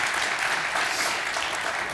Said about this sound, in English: Let's give these four here a warm round of applause.